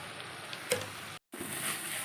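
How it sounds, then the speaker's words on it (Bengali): Chilli spice paste of dried and green chillies with a little sugar frying in a pan, a steady hiss with a brief stir click, a short gap, then the sizzle resumes. "এবার মশলাটা ভাজা ভাজা হয়ে গেছে,"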